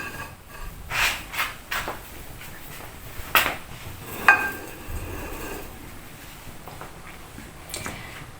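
Dishes clinking as chicken leg curry gravy is served out in a home kitchen: a few sparse, light knocks and scrapes of utensils against plates, fairly close, with no talking.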